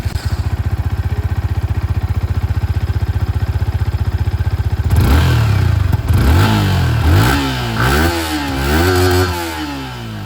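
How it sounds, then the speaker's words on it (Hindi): A 2025 Yamaha MT-15 motorcycle idles with a rapid, even exhaust putter, then the engine is revved repeatedly, its note rising and falling in several sharp, loud sweeps close to the listener. "अब दोस्तों यहाँ पर जो एग्जॉस्ट साउंड है वो मैं आप लोगों को यहाँ पर एक बार सुना दूँ।"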